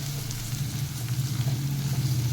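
Chopped onion and capsicum sizzle steadily while frying in a pan for a masala dosa filling, a continuous close crackle with no voices.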